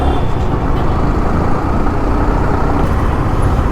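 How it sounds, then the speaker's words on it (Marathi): Dense road traffic, with cars, trucks and buses, rumbles steadily and loudly throughout, a continuous close engine and tyre roar with no speech over it. "यार मला तर कंटाळा आला या ट्रॅफिकमध्ये"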